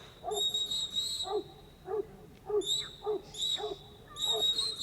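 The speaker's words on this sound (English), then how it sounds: "See how he stands straight up and barks straight at the sheep." At a New Zealand zig zag hunt dog trial, a sheepdog barks again and again at sheep in a steady rhythm of short sharp barks, fairly close, while a high whistle-like tone sounds on and off.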